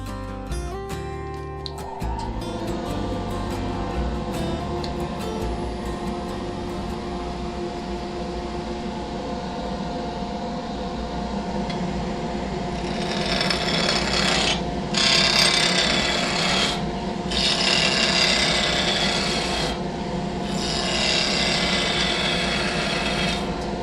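A planing cut on a spinning wooden blank on a lathe, turning it from square to cylinder: a steady motor hum under continuous scraping, hissing chatter that grows brighter and louder midway, with a few brief dips.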